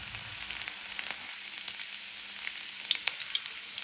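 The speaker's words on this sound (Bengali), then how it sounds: "দিয়ে দিলাম তেল, আলু ভাজবো, আলু ভাজিটা বসানোর জন্য।" Hot cooking oil sizzles steadily in a pan, heated for frying potatoes for Bengali aloo bhaji. The hiss is continuous and fairly quiet, with scattered sharp crackles and pops, and no voices.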